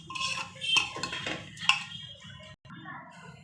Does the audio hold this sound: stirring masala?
yes